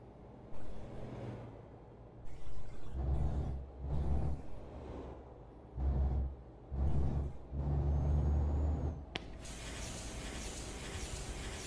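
A Neoplan Tourliner coach in Euro Truck Simulator 2 lets out repeated loud pneumatic hisses and mechanical thumps as its door works, in rhythmic bursts, followed by a sharp release and a steady broad rushing noise.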